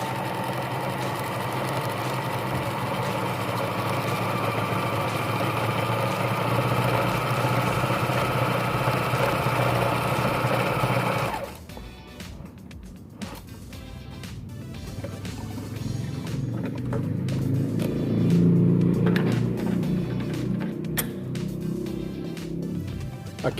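A sewing machine runs steadily while stitching a straight seam in fabric, a close, even motor whir lasting about eleven seconds before it stops and quieter handling sounds follow.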